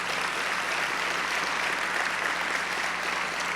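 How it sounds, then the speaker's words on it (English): Audience applause at a county public schools State of Schools event, a dense, even roar of clapping from a large crowd, continuous from start to finish. "Let's give a round of applause for that."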